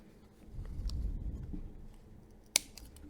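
Scissors snipping a strand of extra crochet yarn, a faint close rustle of handling followed by one sharp, brief cut near the end, no talking.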